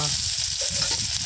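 Onions fry in a wok of hot oil tempered with panch phoron, a continuous close sizzle with soft stirring sounds underneath.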